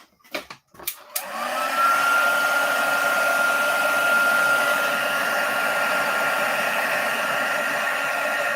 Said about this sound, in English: if we let that dry or heat dry it, so if I grab the heat tool